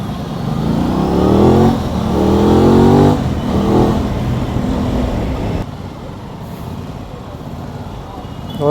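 An Aprilia motorcycle engine revs up and down in close, loud surges while riding through Mumbai traffic in Andheri, then settles to a steadier, quieter hum.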